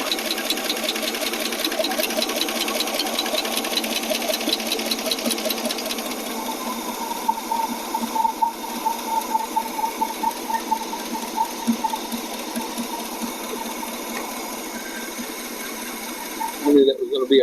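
AMC 287 V8 idling with vacuum, fuel and exhaust leaks, a fast rhythmic ticking chatter under someone talking throughout, ending in a brief clatter.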